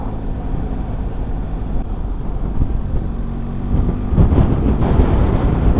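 Wind buffeting on a BMW R1300GS motorcycle at speed, a loud, steady low roar of rushing air and engine that swells into a stronger gust near the end.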